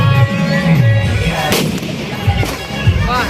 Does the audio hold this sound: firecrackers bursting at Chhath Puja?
yes